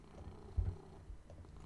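A cat purrs softly and close by, a low rumbling purr with a couple of slightly stronger pulses, heard alone at low level.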